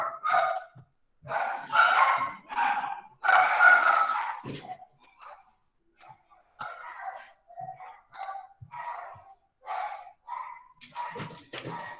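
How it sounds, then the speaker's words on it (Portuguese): A neighbour's dogs bark excitedly in a second-floor apartment building corridor, with bursts of sharp, fairly close yapping and barking that come in clusters, then short pauses and more scattered barks. "Se alguém passa no corredor, os cachorros do vizinho, eles ficam doidos"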